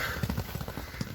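A champion racehorse gallops past on a track near a livestock market, its hooves drumming in a quick, uneven rhythm. The thuds are faint and brief against a noisy outdoor background.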